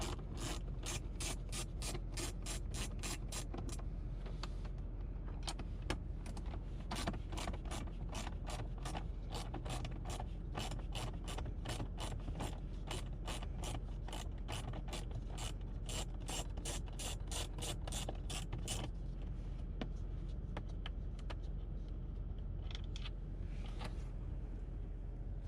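A 7mm socket on a ratchet backs out screws from the dash of a 2017-2022 Ford Super Duty, making long runs of rapid, close clicking that pause briefly and resume, with no speech.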